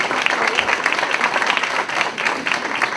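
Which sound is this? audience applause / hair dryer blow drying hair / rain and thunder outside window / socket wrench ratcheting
audience applause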